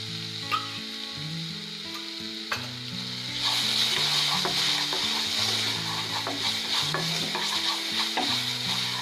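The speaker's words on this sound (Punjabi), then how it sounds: "ਉਸਨੂੰ ਇਸ ਦੇ ਵਿੱਚ ਮਿਕਸ ਕਰਨਾ ਚੰਗੀ ਤਰ੍ਹਾਂ।" Ginger, garlic and chili paste fries with onions in oil for a cauliflower sabzi while being stirred. The sizzling grows louder partway through, with spoon scrapes over tonal background music.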